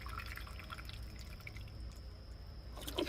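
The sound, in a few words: water dripping through a tomato planter after watering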